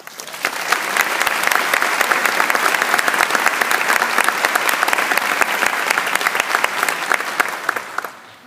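Audience applause welcomes a student speaker representing physical therapy graduates at a 2015 DPT graduation ceremony: dense, steady clapping from a large crowd, loud and sustained for about eight seconds before tapering off.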